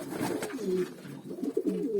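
Several pigeons, including fancy Hünkari and Kelebek breeds, coo softly and repeatedly at close range, with low rolling calls overlapping one another and no talk.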